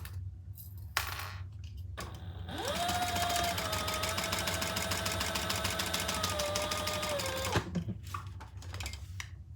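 A sewing machine stitches a Magnolia Rae Traveler pouch with a rapid, even whirring run of about five seconds that winds up and stops, framed by a few handling clicks and light knocks, close and fairly quiet.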